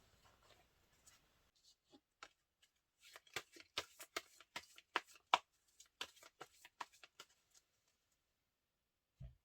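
Tarot cards being shuffled by hand before a draw, a quiet run of crisp riffling snaps and soft card slaps, close and alone, ending with a single thud.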